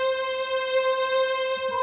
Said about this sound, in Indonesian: Nah, ini suara string aja 200 ya.